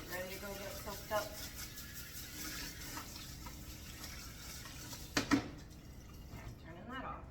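Tap water runs steadily into a rinse bucket during a Maine Coon's bath, a faint continuous splash with a few brief louder knocks near the end before the flow stops.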